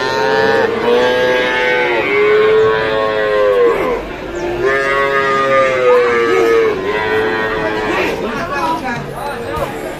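Cattle at the Pon livestock market in Blora low repeatedly in long, drawn-out moos, one after another across the stretch, loud and close, with crowd chatter from the market running underneath.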